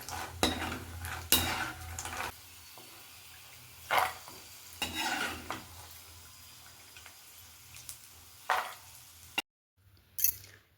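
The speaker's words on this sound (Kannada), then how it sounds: "ಕಡಲೆಕಾಯಿ ಬೀಜನ ತೇರಿಸ್ಕೊಳ್ಳೋಣ ನೋಡಿ ಇಷ್ಟು ಹಾಕ್ಕೊಳ್ತಾ ಇದ್ದೀನಿ ನಾನು ಕ್ರಿಸ್ಪಿ ಆಗೋ ರೀತಿ ಸೇರಿಸ್ಕೋಬೇಕು" Peanuts frying in oil until crispy, giving a soft continuous sizzle close by, punctuated every second or two by scraping and clinking of a spoon stirring in the pan, with no talking.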